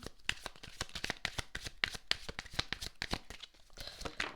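Tarot cards shuffled in the hands, a quiet close series of rapid riffling and slapping bursts with cards slipping and falling, no voices.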